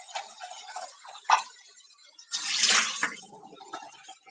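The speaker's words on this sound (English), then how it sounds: "fill it with water, and get it ready to boil" Tap water running from a kitchen sink into a saucepan, an uneven splashing rush with clinks and taps of the pan, swelling louder partway through before easing off.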